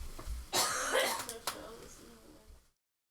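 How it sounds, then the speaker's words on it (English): A few harsh coughs burst out close to the microphone, followed by softer throat-clearing, then silence. "I went to cough in the other room"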